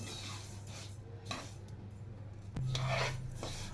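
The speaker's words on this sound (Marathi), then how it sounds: "आता मी ह्याच्यामध्ये तीळ भाजून घेते" Sesame seeds, about half a kilo, stirred as they dry-roast in a pan over a low gas flame, giving a steady gritty rasping and scraping. A brief louder scrape comes near the end, and no one speaks.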